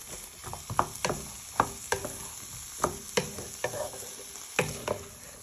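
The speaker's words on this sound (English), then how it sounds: "Just move them with the wooden spoon so they all get nicely coated." Vegetables sweating in a pan are stirred with a wooden spoon, giving a run of close, irregular scraping and tapping strokes over a soft, steady sizzle, with no talking.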